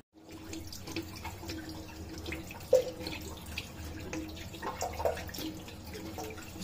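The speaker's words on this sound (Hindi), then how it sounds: "मैं इसको धो के दिखाता हूँ कि आप ये हटता है कि नहीं हटता" Tap water runs steadily over a finger while a hair dye stain from a shampoo-based black hair colour is rinsed off, a soft continuous splashing with faint drips and a few louder spatters, with no talking.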